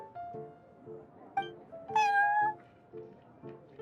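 A cat meows in the Cat's Tail tavern of the Genshin Impact card game, a few short meows with one louder, rising meow near the middle over soft background music.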